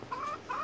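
Backyard chickens in a French henhouse, a hen and a rooster, give two short close clucks in quick succession with no talk.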